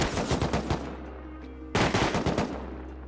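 An AK rifle in the game Rust fires two rapid automatic bursts, loud and close, separated by a short pause.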